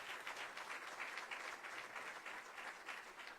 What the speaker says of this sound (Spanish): Quiero que ustedes mismos se den una bienvenida con un fuerte aplauso